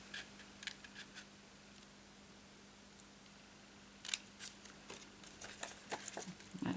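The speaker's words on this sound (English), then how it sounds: "what I tend to do is keep my scissors at an angle" Scissors held at an angle snip through card in a few short clusters of crisp cuts, close and quiet, over a low steady hum.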